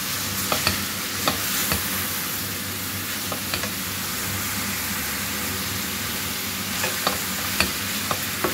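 Shrimp, onion and thyme cook in a pan with a little oil, a continuous close sizzle broken by a series of sharp scraping clicks from stirring.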